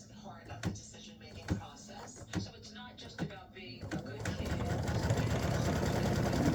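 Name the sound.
embroidery machine stitching a color stop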